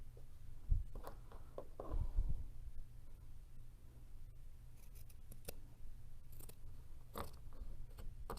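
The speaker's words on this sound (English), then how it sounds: "So just go in and just cutting fringe is basically what you're doing." Scissors snip fringe strips into the bottom of a T-shirt, making a series of close, irregular crunchy cuts with short pauses between them and no talking.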